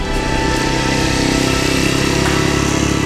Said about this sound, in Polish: Szerokie koła, muskularny wydech, brzmiący